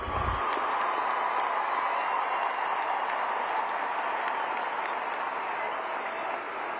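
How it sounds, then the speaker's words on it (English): A crowd at a high school graduation ceremony gives the class of 2026 a steady round of applause, dense continuous clapping with some cheering that holds evenly before tapering at the end. "How about one more round of applause for the class of 2026 here?"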